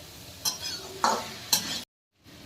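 Vegetables being stirred and mixed in a pan while a malai (cream) sabzi cooks, with three scraping strokes of the spoon at a steady pace, a light sizzle underneath, then a brief silence.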